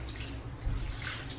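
Water runs steadily from a tap while a puppy is bathed, a continuous close splashing rush with no talking.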